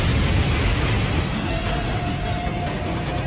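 A big explosion from the Douluo Continent animated film, set off by igniting oil doused over bodies, roars as a loud, sustained wall of blast noise with a deep rumble throughout.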